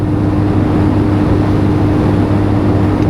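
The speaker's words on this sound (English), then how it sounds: "As you can tell, a little bit of wind noise." Wind rushes past while riding a WK SX 125 scooter on a blustery morning, a steady loud roar of air blended with a constant low engine drone, with no talking.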